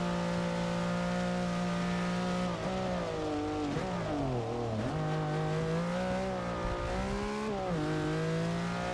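Lamborghini Miura engine in Forza Motorsport 6 on a wet track, revving and shifting through gears, pitch rising and dropping as it accelerates and brakes, steady and fairly prominent.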